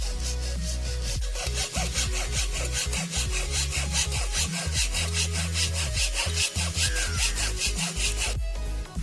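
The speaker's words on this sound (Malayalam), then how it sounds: "ഇനി നമുക്ക് നമ്മുടെ ട്രൈപോഡിന് കനം കൂട്ടാനായി പ്ലൈവുഡ് മുറിക്കാം." Plywood being cut by hand with a saw while building a tripod, a steady rhythmic back-and-forth rasp of repeated strokes, close and loud, with no talking.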